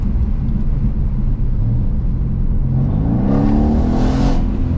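A 2016 Mercedes-AMG C63 W205 engine in sports mode roars loud and close, its pitch climbing steadily as it accelerates through the revs, with a deep rumble underneath and no talking.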